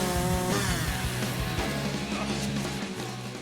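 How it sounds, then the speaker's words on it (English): A chainsaw runs loud and close with a buzzing, stuttering engine note that rises and drops as the throttle changes. "I get to use my chainsaw."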